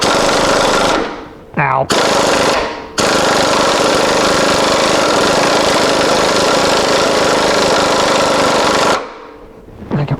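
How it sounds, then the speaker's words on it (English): Impact wrench driving a long bolt with a socket and extension on a Ford Ranger, a loud, continuous rattling hammer that runs almost the whole clip with two brief pauses, near and harsh, with a short exclamation from a person. "that impact wrench is hitting it"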